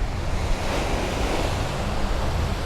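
Sea waves wash steadily onto the sand at Jomtien Beach in Pattaya, Thailand, a continuous loud surf roar with wind noise on the microphone and no talking.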